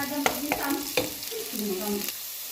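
Sliced ginger frying in a pan, sizzling steadily for a couple of seconds while a spatula scrapes and clacks against the metal, with no one talking.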